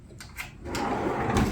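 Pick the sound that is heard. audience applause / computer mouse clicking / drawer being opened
drawer being opened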